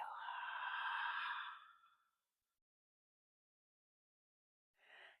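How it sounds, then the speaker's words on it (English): A long, steady breath pushed out fully during a calming yoga session, soft and close for about two seconds, followed by silence and a brief second breath at the end. "Big inhale and a full, complete exhale."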